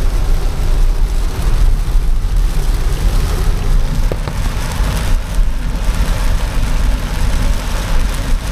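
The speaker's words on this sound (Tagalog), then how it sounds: "Lakas ng ulan, no?" Heavy rain drums steadily on a car during a morning drive near Alabang, a constant wash of noise over a low engine hum throughout, with no voices.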